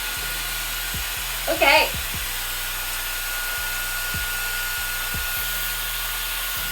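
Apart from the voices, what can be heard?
MERA Bi-ionic hair dryer running on cool setting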